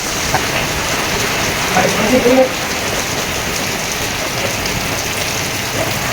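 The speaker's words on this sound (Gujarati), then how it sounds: "જોરદાર વરસાદ આવી ગયો" Heavy monsoon rain pours down on a town in Jamnagar as a dense, unbroken hiss. A faint voice rises briefly partway through.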